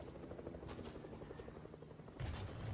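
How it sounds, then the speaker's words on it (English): Helicopter in a video game, a steady rotor drone with loud bursts near the end as it takes gunfire, heard alone without voices. "We've got Vizzy over here shooting that helicopter."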